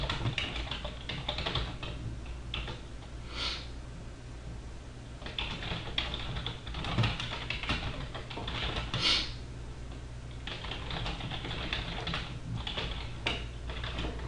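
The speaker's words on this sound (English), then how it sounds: "so you would type the description" Typing on a computer keyboard, a continuous run of quick, light key clicks with brief pauses, close and fairly quiet, with no talking.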